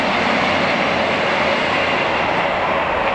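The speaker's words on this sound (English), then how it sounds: "there you go, there's a train, look." Steady, loud rumbling roar of a train passing near the Grand Western Canal, a continuous broadband rush that holds level throughout with no talking.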